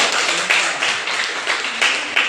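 Classroom applause from a group of students, a dense wash of many hands clapping continuously and evenly throughout, close and fairly loud with no talk on top.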